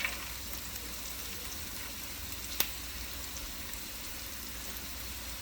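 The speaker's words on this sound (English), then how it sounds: "Now we are going to add our carrots." Carrots for Szechuan fried rice go into a frying pan and sizzle in a steady, fairly quiet hiss, broken once by a single sharp click, with no talk.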